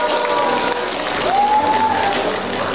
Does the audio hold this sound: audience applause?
yes